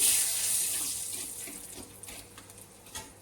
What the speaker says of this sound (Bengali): ফোড়ন হিসাবে গরম মশলা, লং, দারচিনি, তেজপাতা দিয়ে দিলাম।